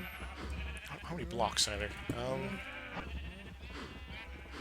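Sheep bleating in the Minecraft video game, a few short wavering bleats under speech, with a person talking over them.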